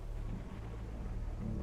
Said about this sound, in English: Oh man, the sound of the thunder.